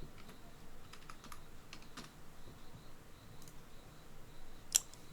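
Quiet clicks of keys typed on a computer keyboard to search Google for arrows, scattered keystrokes in short bursts and one sharper click near the end.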